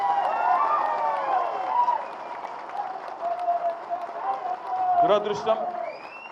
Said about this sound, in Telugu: ఒకసారి గట్టిగా చప్పట్లతో వారికి మనందరం అభినందనలు చెప్పాలి